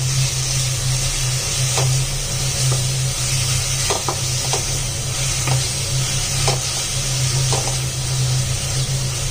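Ginger, garlic and cumin paste frying in a pan for a fish and cauliflower curry, a steady broadband sizzle with a low hum beneath and occasional faint clicks of stirring, close and continuous with no talk.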